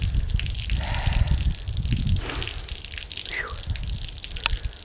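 Water gushes and gurgles through a Jaguar MKII front subframe, making a steady close splashing flush with trickles and drips over it.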